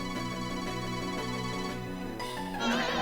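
Cry of Mismagius, a ghost Pokémon, from a Pokémon video game: a sustained warbling electronic tone with steady harmonic layers, shifting pitch near the end, moderately faint and heard alone.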